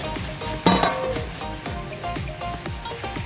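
A cooking pot being covered with its lid while vegetables and dried fish cook in it, giving one sharp metallic clink close by above a low sizzle and scattered utensil knocks.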